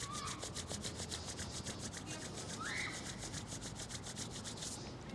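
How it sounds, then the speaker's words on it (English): Hands rub together in a quick, steady rhythm, a soft close-up friction swish repeating many times during a quiet yoga session, with no voices. "rub your hands together"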